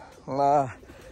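A single short coo from racing pigeons in a loft, a brief rounded call rising and falling close by, with faint background noise.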